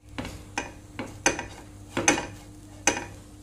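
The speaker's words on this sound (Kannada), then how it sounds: "ಇದನ್ನು ಇವಾಗ ಫ್ರೈ ಮಾಡ್ತೇನೆ." Grated coconut frying in a pan is stirred, giving about eight close scraping clinks of utensil against metal in an uneven rhythm, with no voices.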